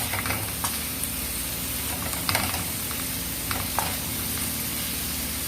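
Onions fry in a salted pan for a chicken slider filling, a steady close sizzle with scattered clicks and scrapes from stirring and no speech.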